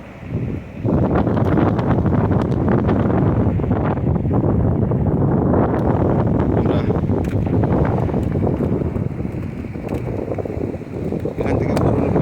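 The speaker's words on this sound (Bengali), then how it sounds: "প্রচুর হাওয়া।" Strong wind roars at a new bridge high in Ladakh, buffeting the microphone in heavy, rumbling gusts that barely let up for the whole stretch.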